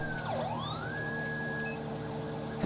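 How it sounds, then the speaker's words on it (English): A police siren wails nearby in the LSPDFR mod for a Grand Theft Auto video game, sweeping down and back up before settling into a steady high tone, with a low engine hum underneath. "Cut the siren."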